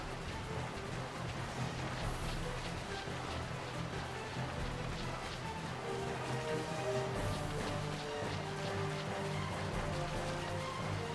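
Steady rain falls across the Giza Plains in Final Fantasy XII, a constant broadband hiss that continues for the whole clip beneath sustained, musical tones.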